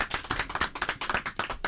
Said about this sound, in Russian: такие жидкие аплодисменты,